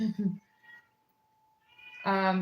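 A pet cat meows in a short vocalization that stands out alone after a brief spoken voice at the start.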